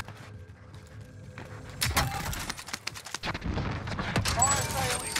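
Video game gunfire in Armaguerra 43 crackles in irregular bursts of sharp shots, starting sparse and quiet then growing into dense, loud volleys with mechanical clatter and booms.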